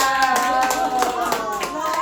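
A small group of people clap their hands in a steady, brisk rhythm at a prize-draw gathering, close by, while a person talks over the clapping.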